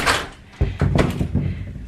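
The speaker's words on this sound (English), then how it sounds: "Close the door" A door at a chicken coop swings shut with a solid thunk, then a few lighter knocks and rattles follow close by, with no one talking.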